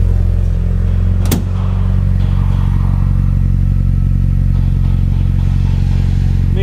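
A Ford fitted with a Roush performance package of intake, exhaust and tune idles with a deep, even burble close by, steady throughout, with one sharp knock or clack early on.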